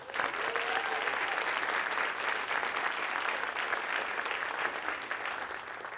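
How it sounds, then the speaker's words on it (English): Audience at a school district State of Our Schools address applauding JROTC students, a broad, sustained wash of clapping from a large crowd, fairly distant and tapering slightly toward the end. "let's just have one more round of applause for our JROTC students"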